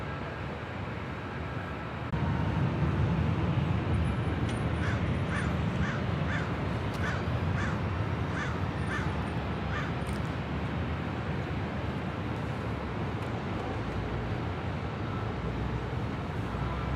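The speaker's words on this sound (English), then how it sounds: "I can hear the birds." Crows cawing outdoors near LAX airport, a run of repeated harsh caws in a steady rhythm over constant broadband roar and wind, the birds at moderate distance.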